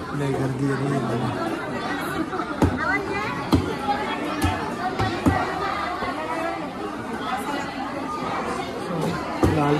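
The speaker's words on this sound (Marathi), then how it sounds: "लय गर्दी आहे बाबा." A busy fish market crowd creates a dense, continuous babble of many voices nearby, with occasional sharp knocks and thuds rising above the chatter.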